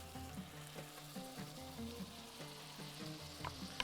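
Shrimp fry in a pan with tomatoes for a Bahraini dish, giving a soft, continuous sizzle with light stirring clicks, quiet and steady, with no talking.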